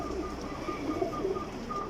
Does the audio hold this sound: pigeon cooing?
yes